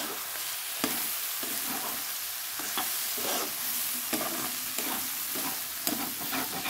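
Beaten egg is stirred into a hot pan, giving a continuous sizzle and hiss broken by repeated scraping strokes of a spatula, close and steady, with no speech.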